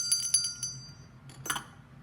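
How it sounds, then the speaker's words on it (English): A small bell is rung several times in quick succession, clear and bright, then struck once more after a short pause, ringing out over a quiet room hum. "A ringing of the bell helps clear negative energy."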